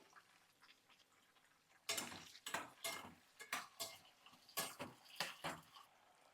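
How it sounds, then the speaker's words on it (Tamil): Shallots and tomatoes are sautéed in a pan for sambar rice, with a faint sizzle at first, then a run of loud, rhythmic spatula scrapes against the pan, close up and without speech. "இது சேர்த்து நல்லா வதக்கி விடுங்க"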